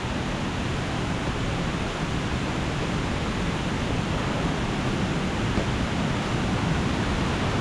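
Kroke I-Dok waterfall in Saraburi roars in a constant, loud wash of falling water from near at hand, unchanging throughout, with no one speaking.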